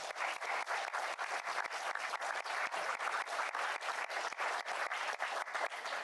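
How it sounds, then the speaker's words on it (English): Audience applause at the close of a conference session on services trade governance, steady dense clapping from a seated crowd, sustained evenly for several seconds without talk. "I would like to ask for a random applause for the presenters and discussants."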